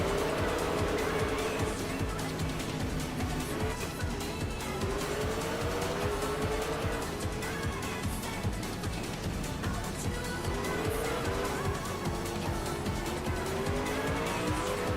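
A tightly bunched pack of open-wheel race cars in an Indie Lights series event, engines droning continuously at close range with tires squealing and the pitch rising and falling as they jostle for position.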